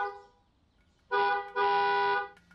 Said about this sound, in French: Et il klaxonne